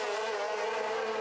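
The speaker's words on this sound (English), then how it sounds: "Sounds incredible as well, doesn't it? Exhaust coming straight through, out the side of the sidecar." Racing sidecar outfit at the Isle of Man TT, exhaust exiting out the side of the sidecar, holding a steady loud high-pitched engine whine throughout with no break.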